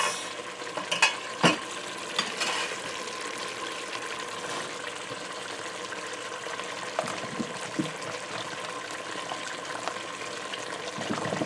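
A steady low sizzle of dal frying in a pan runs throughout, broken by a few sharp clinks and scraping stirs near the start.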